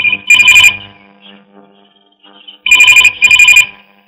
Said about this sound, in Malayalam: മോളെ, നിനക്കൊരു ഫോൺ.